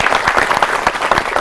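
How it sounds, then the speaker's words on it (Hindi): Energetic young studio audience on a Doordarshan youth TV show clapping steadily, a dense nearby patter of many hands alone without speech. "तालियां बजाती एनर्जेटिक युवा ऑडियंस हमारे साथ है"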